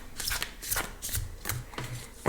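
A tarot deck is shuffled by hand in several quick riffling bursts, close up and crisp, ending with a sharp knock.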